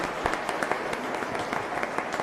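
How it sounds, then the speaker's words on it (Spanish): A congregation at a church mass applauds for children, a brief, moderately loud burst of many hands clapping together with a few sharper individual claps standing out. "Fuerte aplauso entonces para estos niños"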